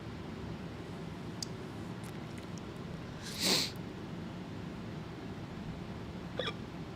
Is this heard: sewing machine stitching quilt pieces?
no